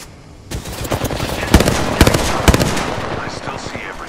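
Apex Legends gunfire, a sustained run of rapid automatic shots with several louder cracks standing out, close and loud, with game voice callouts in the mix.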